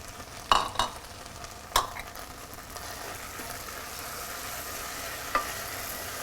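Baby spinach and arugula cooking down in hot oil in a pan, a soft steady sizzle with a few sharp stirring clatters near the start and one later, close and fairly quiet, no talking.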